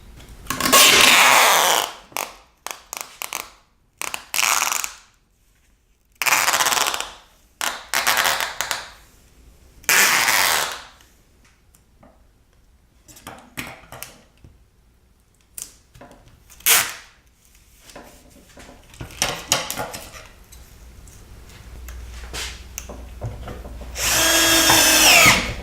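A router bit cuts into wood in repeated passes, the bit raised a little each time to build up layers for a bent lamination. Loud bursts of whining cutting stop and start with short quiet gaps between them.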